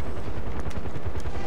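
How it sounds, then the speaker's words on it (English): Helicopter in the video game Far Cry 4: a steady low, rhythmic rotor thump rolls under broadband engine and combat noise, loud and continuous, with brief higher bursts. "there's another helicopter"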